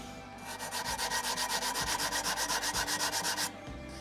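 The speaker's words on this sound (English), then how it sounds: "This is 80 grit sandpaper, so it's quite rough, but you'll see how quickly this smooths out." A breeze block being sanded by hand with coarse 80 grit sandpaper, a steady rhythmic scraping of quick back-and-forth strokes, loud and close, with no voices.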